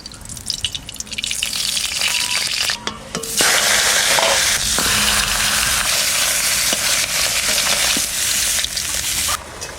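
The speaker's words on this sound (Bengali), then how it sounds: "মাছের মাথা ভাজা হয়ে গেছে" Loud, continuous sizzling of a fish head frying in oil with scattered crackles and pops throughout, close and without any talk.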